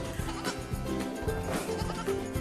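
Dairy goats on a small hobby farm bleat repeatedly and close by, overlapping nasal calls from several animals in quick succession.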